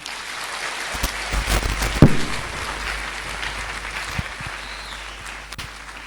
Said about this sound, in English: Shall I have a bigger applause than that?